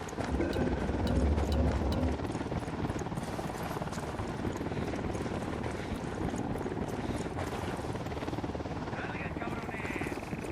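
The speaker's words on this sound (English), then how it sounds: "Chopper incoming." In the Ghost Recon Wildlands video game, a helicopter approaches with a steady rhythmic rotor chop under dense game noise and voices, holding strong through the scene.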